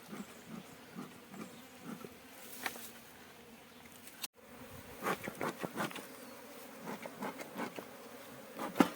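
Honeybees buzz steadily around their hive outdoors, a dense insect drone with louder passes as individual bees fly close, alone with no talking.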